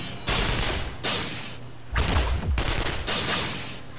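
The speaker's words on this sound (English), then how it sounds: "Is that gunfire I hear? The sounds ring out continuously as if a battle is taking place nearby." Sustained bursts of gunfire ring out in the video game Persona 4 Arena Ultimax, two long rattling volleys separated by a short pause, loud and continuous like a nearby battle.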